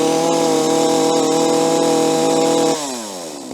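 A gasoline chainsaw screams at full throttle, loud and steady up close during a decibel test, then drops off toward idle near the end.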